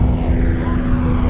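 A propeller airplane drones steadily overhead at an air show, flown by a third-generation stunt pilot in a deliberately wobbly routine, with a loud, even engine tone and no voices.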